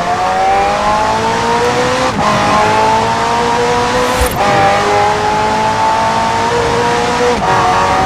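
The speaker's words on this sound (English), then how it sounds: "The car's blistering performance is delivered by a twin-turbo V8, supplemented by a McLaren ECU electric motor and instant power assist system." A McLaren hybrid race car with a twin-turbo V8 and electric motor screams through rising gears in Forza Horizon 4, loud and continuous with repeated upshifts and brief tire squeal.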